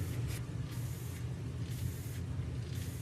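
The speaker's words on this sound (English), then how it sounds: "So what I'm going to do is I'm going to spray a band along this panel line and along this panel line." Aerosol primer sprays in several short bursts along taped panel lines on a scale model airplane, each a close, breathy hiss separated by brief gaps.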